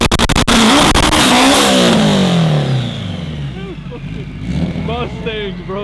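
A car launching hard at a drag strip, loud and close with a rising engine roar that climbs in pitch, then recedes into the distance as another engine revs faintly further off.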